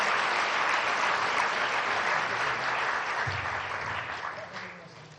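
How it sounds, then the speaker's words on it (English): Audience applause after a piano performance at a physics tournament closing ceremony in Tokyo, a thick, sustained round of clapping from a large hall that slowly thins out and fades toward the end. "Let's give them another round of applause."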